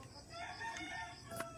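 Faint chickens clucking on a rural farm in the Philippine province, among other animals such as pigs and ducks, short distant fowl calls over low background noise.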